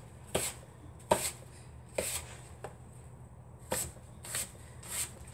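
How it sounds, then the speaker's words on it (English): A knife slicing apples thinly on a board, about seven crisp cuts at an irregular, unhurried pace, close and clear over quiet background. "So we're doing nice thin slices of the apples."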